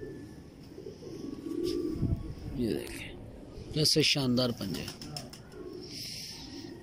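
Hino pigeons on a Lahore rooftop give soft cooing calls and brief wing flutters, heard under someone speaking close to the microphone, with light outdoor background noise.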